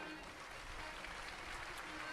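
Crowd claps in thanks for a host at a nine-day Navratri religious discourse gathering, a broad, steady wash of applause heard from a distance and fairly faint throughout.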